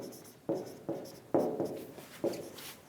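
Pen strokes writing out an example sentence, five or six short scratchy bursts at an uneven pace, close and fairly quiet with no talk.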